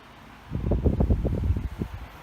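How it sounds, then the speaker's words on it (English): An Air King 16-inch table fan running on its low setting gives a close, low rumbling whoosh of moving air with uneven buffeting pulses, starting after a brief quiet moment. "But even on the low setting, it's pushing"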